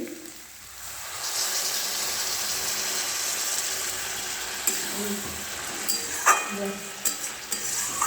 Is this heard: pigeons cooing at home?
no